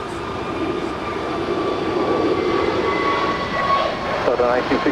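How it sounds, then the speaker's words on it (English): A KLM Boeing 787-10 Dreamliner arriving from Amsterdam lands at LAX, its engines a steady, broad roar throughout, with radio chatter over it. "Right up there on the north side is KLM Flight 601 coming in from Amsterdam in a 787-10"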